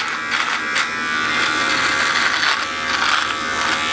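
An electric hair trimmer buzzes steadily while shaving, a continuous close, loud whirring hum with slight variations as the blades move across skin and hair.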